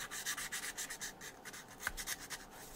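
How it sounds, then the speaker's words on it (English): A Scotch-Brite pad scrubs the puttied body of a diecast Beetle model car with a V8 conversion. Rhythmic back-and-forth rubbing strokes sound close and steady, with no talking. "So just a good once over with the Scotch Brite."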